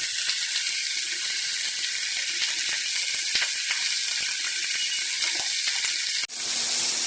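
A London broil steak sizzles steadily in a hot pan, a dense, close hiss with scattered pops and crackles that cuts off briefly near the end.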